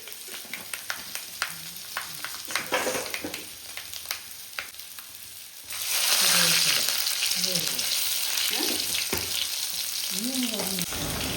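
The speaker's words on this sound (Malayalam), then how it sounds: "എണ്ണ ഒഴിച്ച് മുളകിട്ട് കരിയേപ്പിലയും ഉലുവയൊക്കെ പൊട്ടിക്കുകയാണ്." Chillies, curry leaves and fenugreek seeds in hot oil for a fish curry, starting with scattered sharp pops and crackles, then swelling into a loud continuous sputtering sizzle with bursts of spitting.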